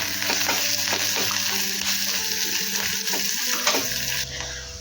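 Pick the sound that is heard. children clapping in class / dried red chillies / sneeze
dried red chillies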